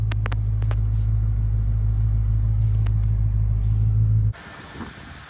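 A Dodge Hellcat engine rumbles during a test drive, a deep, steady, loud drone close by with a few brief clicks, then it cuts off abruptly into quieter background near the end.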